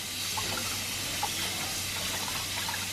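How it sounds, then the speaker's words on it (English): Shower water running steadily in a home bathroom, a continuous broadband hiss of spray at moderate, even loudness with no talk over it. "Put the shower on."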